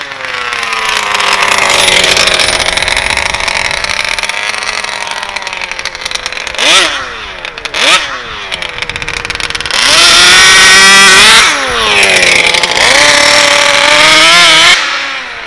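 A 100cc ALX vehicle engine with twin fuel tanks, one on each side, runs hard at full throttle, a loud continuous buzzing drone that dips and surges with several sharp revving swoops before holding a high, strained pitch.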